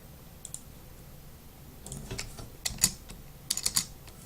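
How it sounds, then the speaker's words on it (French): Keyboard typing during a live stream of a cycling management game, with scattered clicks that thicken into a louder burst of keystrokes toward the end, fairly close and without speech. "Oh le clavier insupportable."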